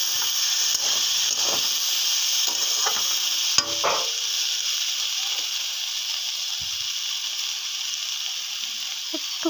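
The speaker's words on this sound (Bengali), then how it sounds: "এটাকে মিশিয়ে নেব ভালো করে।" Drumstick, potato and eggplant frying in a pan with salt, turmeric and chilli powder as they are mixed, giving a steady bright hiss of sizzling oil with a few scraping stirs and one sharp clink near the middle.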